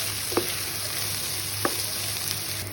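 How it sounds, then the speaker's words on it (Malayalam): Small onions, sliced onions and curry leaves sauté in a pan with a steady close sizzle, broken by two sharp clanks of a spoon against the pan. "ചെറിയ ഉള്ളി എടുത്തിട്ടുണ്ട്, ഒരു പിടി. അതുപോലെ തന്നെ ഇത് 4 സബോളയാണ് എടുത്തിരിക്കുന്നത്. അതിൻ്റെ കൂടെ കുറച്ചുകൂടെ കറിവേപ്പില ഞാൻ ആഡ് ചെയ്തിട്ടുണ്ട്. നന്നായിട്ട് നമുക്കത് വഴറ്റിയെടുക്കാം."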